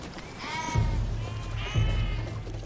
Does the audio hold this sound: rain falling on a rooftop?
no